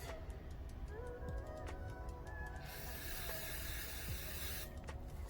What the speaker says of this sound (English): Alright, so I got my brake clean. I'm gonna spray some